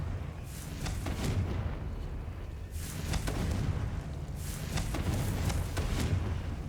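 A fiery blasting spell cast in a video game erupts in several rumbling, explosive bursts spaced a few seconds apart over a steady low background drone, with no voices.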